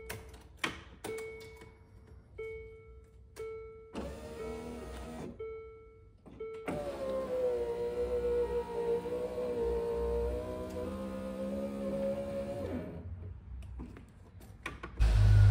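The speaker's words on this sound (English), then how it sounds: "just cleaned the motor, buckled it all back together, put the window back in" A Land Rover Discovery power window motor, freshly cleaned and refitted, gives a few short clicks and brief whirs, then a steady, close whine as it drives the window for about six seconds.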